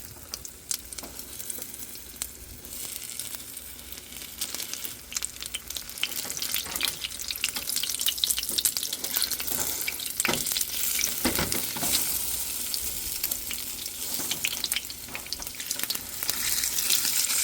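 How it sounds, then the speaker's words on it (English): Egg-soaked slices fry in a pan for breakfast, a steady bright sizzle that swells midway and keeps crackling throughout, with brief scrapes and clatter of flipping and light water-like hiss, no talking. "just going to fry it a little bit on each side."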